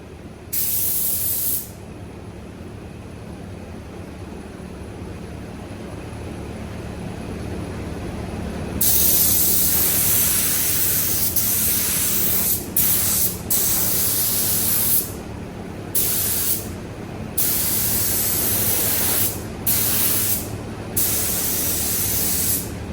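Sagola 3300 GTO spray gun shooting Finish One FC710 at about 27 PSI, a loud steady hiss of atomized spray in repeated bursts, long continuous passes broken by short pauses over a low background hum.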